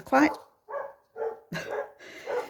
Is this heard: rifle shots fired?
no